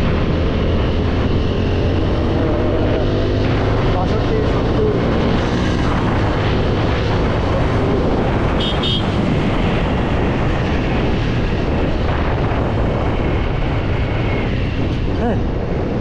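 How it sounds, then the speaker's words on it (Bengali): A motorbike cruising at around 70-80 km/h fills the scene with a loud, constant roar of engine drone and heavy wind buffeting against the microphone, unbroken from start to finish. "বাইকের নয়েজ, বাইকের যে সাউন্ড, সেই সাউন্ডটা ক্যামেরাতে কীভাবে আসে আপনারা বুঝে নিলেন।"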